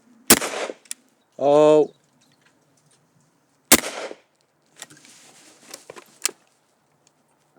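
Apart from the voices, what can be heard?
Yildiz .410 over-and-under shotgun firing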